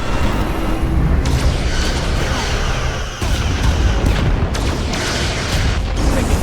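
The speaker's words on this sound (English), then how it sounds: "Taking heavy fire." Dense, continuous booming weapons fire and explosions as a starship takes a heavy barrage in the sci-fi game Star Trek: Resurgence, loud and relentless with rumbling low end and a brief dip midway.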